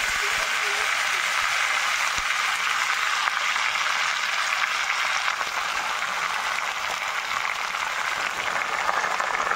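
Vegetables sizzle in hot oil with panch phoron, bay leaf and dried chilli, a steady, even crackling hiss that runs throughout as the cooking for a spinach and egg curry goes on.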